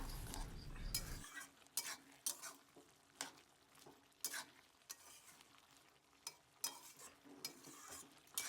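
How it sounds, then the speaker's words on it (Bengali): Bottle gourd greens being stirred and mixed with sugar in a pan: repeated scraping strokes of a spoon against the pan at an irregular rhythm over a faint background sizzle, close and fairly quiet. "দেওয়ার পর ভালো করে এটাকে মিক্স করে নেব"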